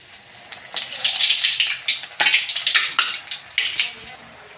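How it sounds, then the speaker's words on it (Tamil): Drumstick leaf murukku dough made with ration rice sizzles as it goes into hot oil, bursts of crackling bubbling that rise and fall in waves, close and fairly loud, with no talk. "எண்ணெய் சூடாகிடுச்சு இந்த முறுக்கு போட்டு எடுத்துக்கலாம்"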